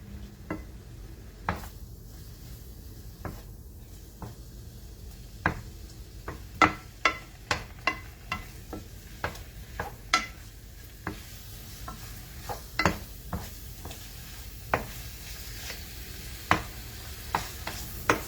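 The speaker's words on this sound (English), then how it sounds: "I just need to brown the meat. I have the stove on quite high." Beef browning in a pan on a stove turned up high, with a steady sizzle broken by frequent sharp ticks and clacks as the meat is stirred.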